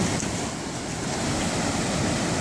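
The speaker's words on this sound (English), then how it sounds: "Good sized waves out there for surfing." Ocean waves break and wash steadily on a wide, deep white-sand beach, a loud continuous roar of surf with some wind noise and no distinct gaps.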